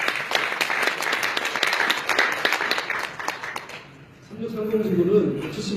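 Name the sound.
audience applause at a lecture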